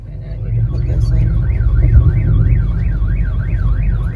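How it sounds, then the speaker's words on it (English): A loud electronic alarm warbles steadily up and down in a repeating cycle over a low rumbling background, buzzers sounding at a Mexico border checkpoint. "the lights and buzzers start sounding"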